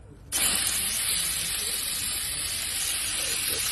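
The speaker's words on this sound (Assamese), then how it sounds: "কেৰাহী ট'টেলি গৰম হৈ গ'ল এতিয়া ইয়াত মাংসখিনি ডাইৰেক্ট দি দিওঁ" Pork dropped straight into a very hot wok, sizzling in a sudden loud burst of hiss that holds steady and close for several seconds.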